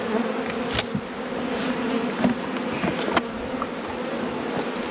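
Honey bees buzz steadily at an open Langstroth nuc hive, a dense close hum with occasional louder passes of individual bees flying near.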